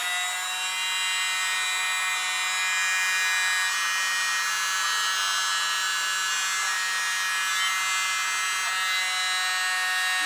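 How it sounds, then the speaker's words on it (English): A small air blower runs steadily and close over fluid acrylic paint, a continuous high-pitched whirring hiss with a faint low hum that holds level for about ten seconds, with no talk. "And my little blower, just because I want to see how it works and it'll be the first time."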